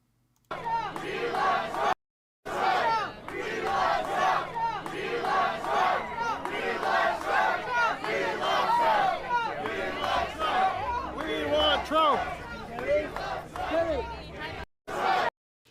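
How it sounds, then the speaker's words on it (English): A large political rally crowd chants in unison for Trump, a loud, dense wall of many voices in rhythmic bursts that fills nearly the whole stretch, with brief pauses near the start and end. "DeSantis showing up somewhere, somehow, when the crowd is chanting for Trump."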